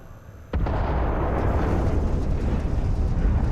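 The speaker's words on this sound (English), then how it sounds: "Particle detonation concluded." A dust bomb particle detonation in the Starfield video game, a sudden sharp blast followed by a long, heavy rumbling roar that stays loud and steady to the end.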